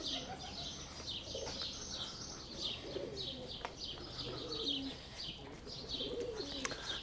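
Pigeons coo repeatedly at a pigeon house in a Greek port town on Paros, with chirps and brief wing flaps mixed in, fairly close and lively, alongside faint background voices.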